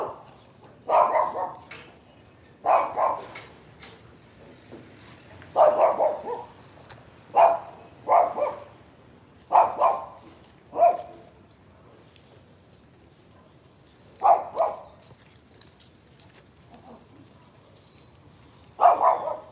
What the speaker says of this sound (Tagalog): Oops, may aso.